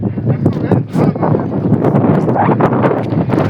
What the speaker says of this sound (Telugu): గాలి సౌండ్ ఏం వస్తుంది.